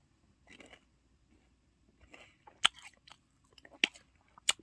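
Crunchy bites and chewing of crispy fried sweet and sour pork, a few sharp crunches and softer mastication sounds, close and fairly quiet with no talking.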